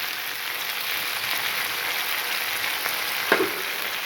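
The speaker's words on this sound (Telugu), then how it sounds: "టమాటో ప్యూరీ వేసుకోవాలి" Tomato puree hits a hot frying pan while masala okra sambar is cooked, giving a steady hissing sizzle with one brief clatter near the end.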